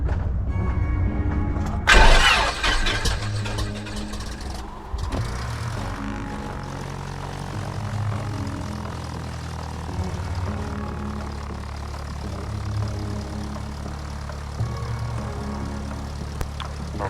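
A light aircraft's propeller engine cranks and catches with a sharp loud burst, then settles into a steady, close droning run with a rumbling low hum.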